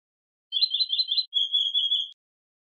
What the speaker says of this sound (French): Le zostérops.